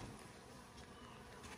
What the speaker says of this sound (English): You can hear them buzzing around and probably see them flying